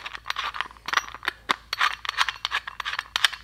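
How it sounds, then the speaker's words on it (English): Rapid metallic scraping and clinking close up as a setting nut is unscrewed from the threaded center of a camper van sink strainer, in quick, uneven bursts. "It took this little setting nut out of the center here"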